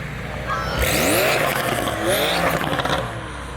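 A blue McLaren sports car leaving a cars and coffee meet revs hard in the open air. Loud rising and falling engine howls sweep past over a background of crowd and traffic noise.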